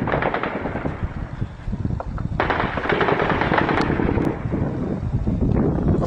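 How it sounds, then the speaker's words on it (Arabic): Heavy gunfire on a road near Maarat al-Numan, Idlib, in 2012: dense, rapid bursts of automatic weapons fire crackling continuously at mid distance, with some wind noise on the microphone and no talking. "إطلاق نار كثيف"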